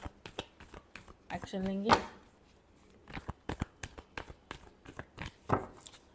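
Tarot cards are shuffled in quick papery riffles and taps, a series of sharp rustling bursts, with someone speaking briefly partway through.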